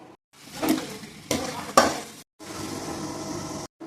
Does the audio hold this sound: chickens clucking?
no